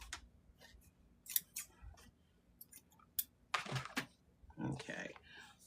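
Scissors snip through fabric pieces for a placemat, a series of crisp, close cuts arriving in irregular bursts with quiet pauses between them.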